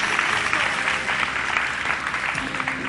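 Sustained applause from a studio audience during a Ramadan iftar television show, a dense, steady wash of many hands clapping at an even level for the whole stretch, with no clear speech over it.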